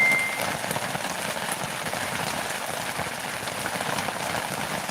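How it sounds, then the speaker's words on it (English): Heavy rain pours outside on the Mescalero Apache Reservation, a loud, dense hiss of drops drumming steadily on surfaces for several seconds with no voices. "it's raining like crazy outside"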